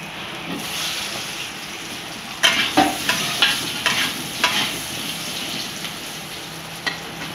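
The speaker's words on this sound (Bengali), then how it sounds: "আমার পেঁয়াজ ভাজা হয়ে গেছে" Onions fry in a pan with a constant sizzle while a utensil stirs them in a run of scraping strokes in the middle stretch, heard up close with no voices.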